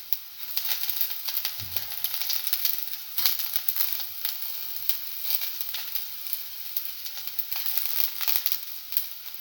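Red chili frying in hot oil gives a continuous crackling sizzle with scattered pops and spits, moderately loud and close, with no one talking.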